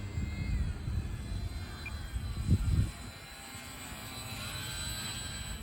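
An E-flite Sport Cub S2 RC airplane flies in a windy front yard, its small electric motor a steady distant drone with a brief louder swell as it passes, continuing at low level throughout.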